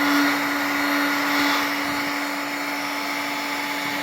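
A heat gun blows a continuous, steady whirring roar with a high whine while heating plastic on a Honda 300, loud and close and alone throughout.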